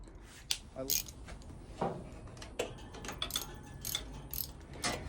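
An 8mm wrench turning carburetor bolts on a 1986 Honda CT110 during a carb rebuild gives a series of close, sharp metallic clicks and ratcheting taps spaced irregularly over a low background.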